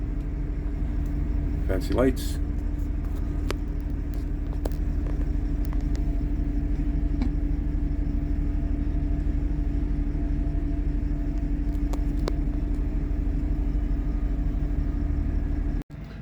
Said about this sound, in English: here comes the motor